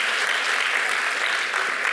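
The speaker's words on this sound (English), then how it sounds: "give yourself an applause for that one too" Audience applause fills a lecture hall in a steady, dense wash of clapping that holds at full strength from start to finish, with no gaps.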